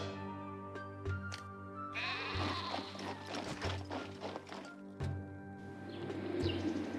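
Sheep bleat repeatedly in the Caesar III city-building game, several wavering calls over a busy layered ambience of game sounds and faint chirps, moderately loud with no talking.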